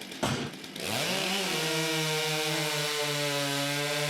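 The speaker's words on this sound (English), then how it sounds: "athletes reach for their chainsaws on the sound of the gun and cut 2 perfect cookies" A chainsaw roars up to full speed and holds a loud, steady buzzing whine as it cuts a round off a wood block in a timber sports competition, close and continuous.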